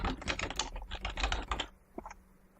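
Rapid clicking of a computer keyboard as a report name is typed, a quick burst of close keystrokes lasting under two seconds, then a couple of isolated clicks.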